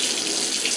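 Water runs from a tap in a steady, loud, close hiss while hair is being washed, unbroken for the whole short moment with no voices.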